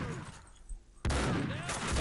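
Gunfire in Max Payne 2: a sudden sharp burst of shots cuts in midway and carries on as a dense, loud volley.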